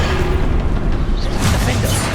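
Bombarda and Confringo spell blasts in Hogwarts Legacy: dense, loud rumbling bursts that run into one continuous roar of magical explosions.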